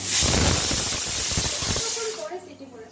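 Loud, steady hiss of a pressure cooker whistle venting steam while mutton cooks, a continuous rushing spray that fades and breaks off near the end, leaving quieter kitchen sounds.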